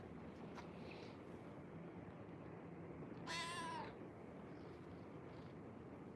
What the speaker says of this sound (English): You got the cutest meow ever.